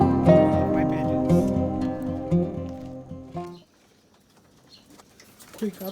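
Racing pigeons at a home loft after a young bird release, giving a dense, close chorus of low cooing with some wing flutter for about three and a half seconds before it drops to quiet, with a brief stir at the end.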